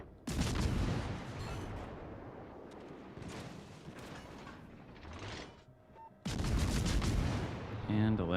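Heavy warship gunfire in World of Warships: Legends booms out in loud, dense bursts with rumbling tails and brief lulls, a voice faintly audible in between.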